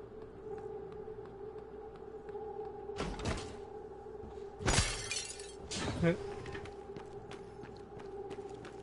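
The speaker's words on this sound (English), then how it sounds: "Break the glass." Glass shattering in the video game Prey, heard as a few sharp crashing bursts over a steady electronic hum, with the loudest break near the middle and a smaller crash following.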